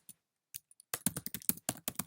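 Close, crisp keystrokes on a computer keyboard: a few isolated taps, then a quick burst of rapid typing in an otherwise quiet room.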